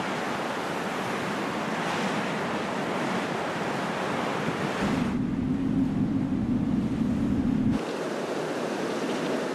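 Atlantic ocean surf and strong trade winds along volcanic cliffs, a continuous roaring wash of waves with gusty wind noise buffeting the microphone, loud and steady throughout.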